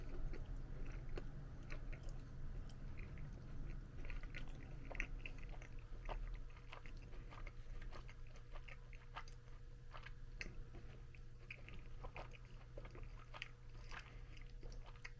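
Someone chews a mouthful of a cheap rice and beans lunch cooked in a rice cooker, with steady, faint, close-up chewing and small crunching bites continuing throughout with no talking.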